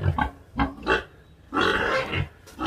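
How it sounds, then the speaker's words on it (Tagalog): A native pig grunts in short bursts while being tied up on a La Union farm, several close, rough grunts with a longer squealing stretch in the middle. "Ngayon, tinatalian ni pinsan yung baboy."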